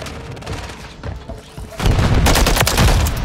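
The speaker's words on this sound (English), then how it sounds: "That's a fucking nade, bro." A grenade blast in the shooter game Modern Warfare 3 hits as a sudden loud, broadband roar about halfway through, following quieter gunfire and game noise, then rumbles on with scattered shots.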